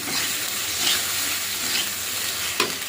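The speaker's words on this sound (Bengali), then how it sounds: "চিংড়িটা দিয়ে দিয়েছি এবারে ভালো করে একটু কষে নেব" Shrimp sautéing in spice paste with meat masala sizzles and hisses steadily in the pan, close up, with occasional stirring scrapes and a sharp clink near the end.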